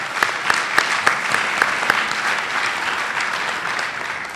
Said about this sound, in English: Round of applause for the ConOps group.